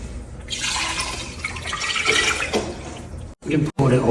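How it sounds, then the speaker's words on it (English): Liquid ceramic glaze pours steadily into a pot for about three seconds with a splashing, trickling flow, then cuts off briefly and resumes in short bursts. "Pour in the glaze."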